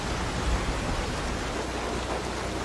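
Rain falling steadily, a dense, even hiss with no breaks and no voices, heard in a dubbed Korean drama.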